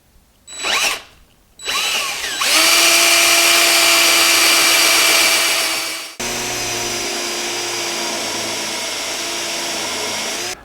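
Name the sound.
drilling wood with a Forstner bit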